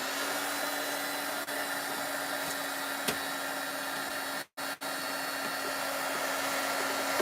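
A craft heat tool warms crafting supplies with a steady, loud blowing roar and a constant hum, running without pause except for two brief dropouts near the end.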